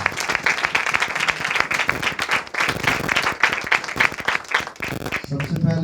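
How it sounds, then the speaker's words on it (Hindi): Loud applause from a church congregation during a Hindi-language sermon, vigorous dense clapping with an uneven pulsing rhythm, close and continuous before a voice and brief noise come in at the very end. "उसके लिए जोरदार तालियां।"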